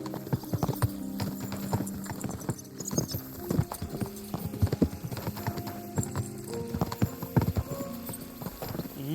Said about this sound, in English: I like Ziska's horse as well